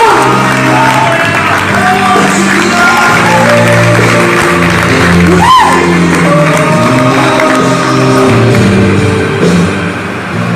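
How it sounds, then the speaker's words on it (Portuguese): Congregation applauding during a Pentecostal church sermon, with loud crowd noise, cheers and shouts blending into sustained clapping over a steady musical hum, with one rising shout in the middle. "Aplauda Jesus Cristo, por favor."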